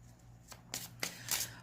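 Tarot cards are shuffled and pulled from the deck, a few quick, close riffling bursts and soft flicks in quiet surroundings.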